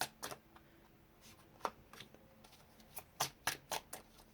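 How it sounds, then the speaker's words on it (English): Tarot-style cards being shuffled and pulled make soft, irregular flicks and papery slaps, close and quiet, clustered in short bursts with brief pauses between. "I'm just going to pull cards for each group."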